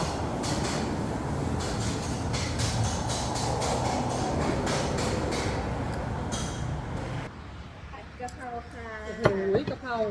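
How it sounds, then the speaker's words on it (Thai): A loud, rumbling vehicle passes close by for several seconds, then fades abruptly, leaving someone talking in a quieter setting. "ไม่รู้ว่าเสียง รถจะดังกว่าเสียงป้าเปซี่หรือเปล่านะคะ"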